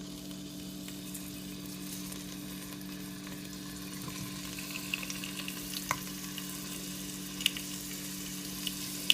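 Tomatoes laid cut side down in hot vegetable oil over medium-high heat for a chicken and poblano pepper soup give off a steady, faint sizzle with a low hum beneath and a few light clicks near the end, no talking.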